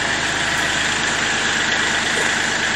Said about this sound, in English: Got the tractor warming up